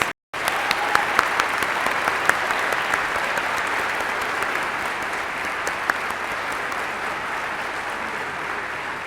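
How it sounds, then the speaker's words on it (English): Sustained applause from an awards ceremony audience, steady and dense throughout with scattered sharper claps standing out, fairly close and full, after a brief silent gap at the start. "Let's give a final round of applause for our college awards."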